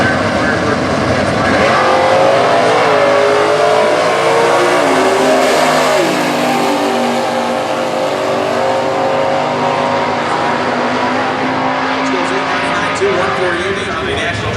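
Stock eliminator drag racing cars, including a 1998 Firebird, rev their engines at the US Nationals, a loud sustained roar with shifting engine tones throughout while a commentator talks over it.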